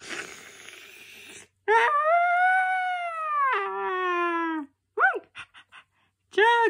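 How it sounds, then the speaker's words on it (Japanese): A dog howls in an animated children's cartoon, long drawn-out wavering cries close and loud, then a few short yelps after a pause, with a brief rustle before the howling starts. "だって犬なのよ"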